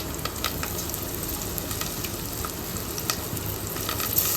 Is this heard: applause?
no